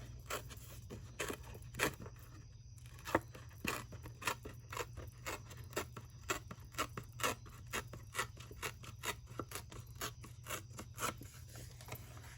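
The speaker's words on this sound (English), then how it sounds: "And I'm gonna rip this a little bit." Paper torn by hand for album matting in a papercraft project: faint, quick rasping rips and scratches in repeated short bursts over a steady low background, with no talking.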